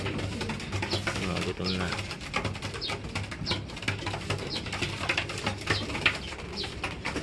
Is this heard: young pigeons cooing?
yes